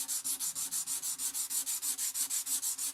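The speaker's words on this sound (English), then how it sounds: "Just dip the sandpaper into the mineral spirits. Keep rubbing back and forth." Sandpaper dipped in mineral spirits rubs back and forth along a tulwar sword blade in a steady, even rhythm of about six strokes per second, close and consistent throughout.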